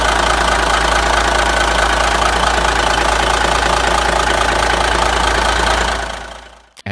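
A vintage Cummins NHC 250 naturally aspirated 855-cubic-inch diesel runs with a loud, steady, deep knocking rumble that carries on evenly, then fades away toward the end.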